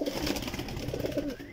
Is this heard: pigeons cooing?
yes